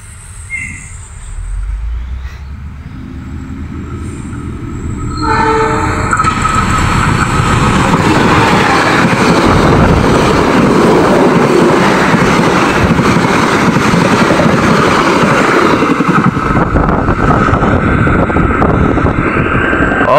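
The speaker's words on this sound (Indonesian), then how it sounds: "itulah dia kereta api Joglo Semarkerto relasi Cilacap Yogyakarta." The Joglo Semarkerto passenger train on the Cilacap–Yogyakarta line passes close by, a loud sustained roar and rattle of wheels on rail that builds quickly and stays heavy until the end.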